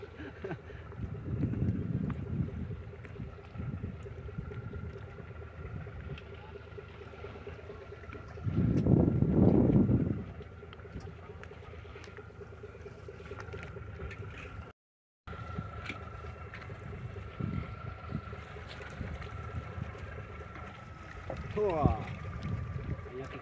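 A shrimp trawler boat working near Taburan beach, heard as a steady low engine drone with wind noise and water, from a moderate distance, with people talking at times.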